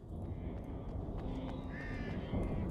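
Crows caw repeatedly in the video game Alan Wake Remastered: several short, harsh calls sound at a moderate distance over a steady, dark ambient background.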